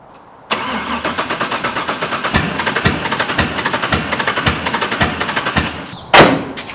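A swapped LS1 V8 engine in a C3 Corvette cranks over and over without catching, a loud, close, rhythmic starter churn broken by sharp regular clicks, then a short burst at the end.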